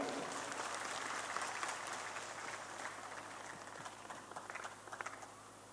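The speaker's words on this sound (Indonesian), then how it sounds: "Beri tepuk tangan yang paling meriah" Faint, distant applause from an audience at a pesantren anniversary and graduation celebration after an Alfiyyah recital, a steady patter of many hands running through the whole stretch and gradually thinning toward the end.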